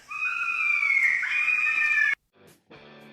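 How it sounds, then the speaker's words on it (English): A fisher cat screams in the woods: a long, shrill, wavering cry of about two seconds, followed by a brief pause and another harsh, strained call. "that better be a fisher cat"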